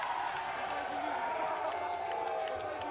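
Crowd noise from a rugby match is a steady, distant roar from the stands. A commentator talks over it.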